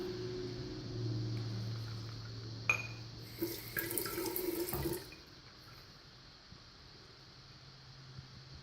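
A small splash of tap water runs while shaving soap is worked into a lather, a soft running stream and a brief clatter that stops abruptly, leaving a quiet room.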